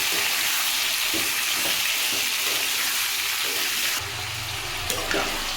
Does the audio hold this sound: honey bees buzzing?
no